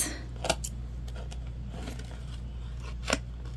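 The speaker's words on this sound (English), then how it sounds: "All right, and we'll trim up all of our threads." Scissors snip threads on a sewn backpack organizer: two quick, light cuts near the start and end over a steady low hum, with no one speaking.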